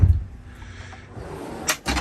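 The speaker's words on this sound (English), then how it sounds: "Pop the lid there." A lid pops open on the wet bar compartment of a 2021 Aviara AV32 outboard dayboat, a soft thump at the start followed by quiet, then a couple of sharp bright clacks near the end.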